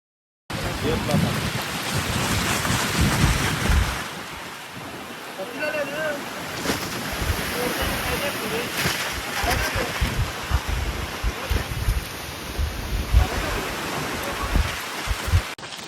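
Strong wind sweeps across the top of Jenukal Gudda hill, a loud, steady roar buffeting the microphone throughout, with faint voices now and then beneath it.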